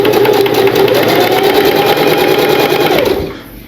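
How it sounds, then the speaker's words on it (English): A sewing machine stitches a T-shirt quilt seam, running loud and steady with a fast, even mechanical rhythm before slowing and winding down at the end. "So now I'm going to sew down to our first cross seam here."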